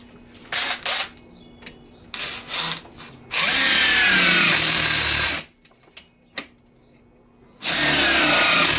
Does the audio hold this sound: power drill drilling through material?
yes